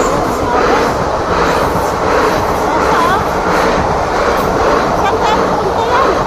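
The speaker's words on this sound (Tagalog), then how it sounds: "O, dyan na yung train." A train pulls into a station in Sweden with a steady, loud rumble of wheels and carriages that carries on throughout, while voices chatter faintly in the background.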